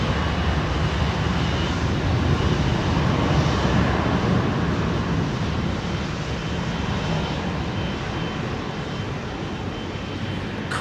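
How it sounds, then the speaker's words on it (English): An Icon jet airliner passes at Heathrow Airport, its steady, loud engine roar filling the air without pause and easing only slightly as it moves along, with no talking over it. "One of the Icon jets."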